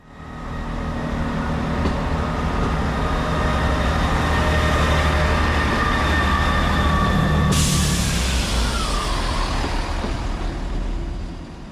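A train runs through Wales with a steady, loud rumble of wheels on rail, constant throughout, joined midway by a bright hiss and a faint squeal as it rolls on.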